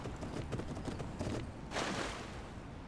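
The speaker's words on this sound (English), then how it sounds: "I'm gonna call my horse into here" A horse's hooves clip-clop in Skyrim with the Requiem mod, a short run of soft, moderately distant steps with a brighter burst of hoof noise near the end, over low background ambience.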